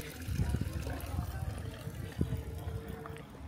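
Clean drinking water runs from a lion-head fountain in an Italian hill-town piazza, a soft continuous splashing trickle heard faintly beneath a person talking nearby.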